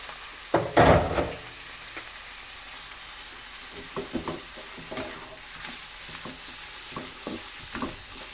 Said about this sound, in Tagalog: ilagay natin yung ating chicken. Yung na-slice na natin na atay balunan